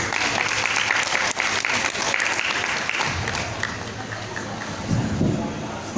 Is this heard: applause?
yes